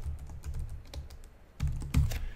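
Someone types a code comment in a Java program on a computer keyboard, producing quick close key clicks in short bursts, growing slightly louder toward the end.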